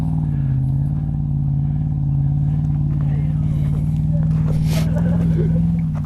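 A Toyota V8 engine drones steadily as the truck climbs a steep, snowy trail hill, a low constant rumble with faint clatter throughout, while voices talk over it near the end.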